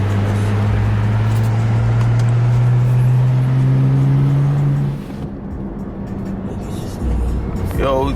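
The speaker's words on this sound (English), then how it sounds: "we get on the highway right now, about to go get a car wash." A BMW cruises along a highway with a constant droning engine and road hum that eases off partway through, with voices faintly present inside the cabin.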